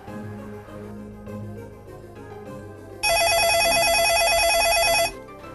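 An IP phone rings after a call is routed through a GSM-VoIP gateway: a loud, steady electronic warble lasting about two seconds, following quieter background sound.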